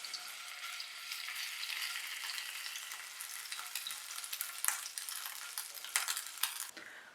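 Ginger garlic paste fries in two to three tablespoons of oil in a pan, making a continuous crackling sizzle close by, punctuated by occasional sharp clicks and scrapes from stirring.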